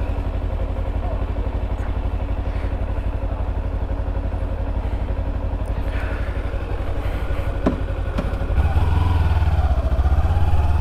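A Honda CBR 1000 motorcycle on the street, a loud engine rumble that holds steady and then swells louder and nearer near the end, with a voice talking over it.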